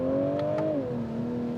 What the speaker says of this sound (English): it's quick to launch off the line, and the power doesn't taper off as you get closer to the red line